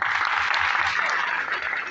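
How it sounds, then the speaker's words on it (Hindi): Audience applause at a morning company training gathering in Gurgaon, a steady dense wash of many hands clapping, loud and continuous throughout. "एक जबरदस्त ताली"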